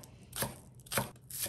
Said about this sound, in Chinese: 一根蒜白切成斜段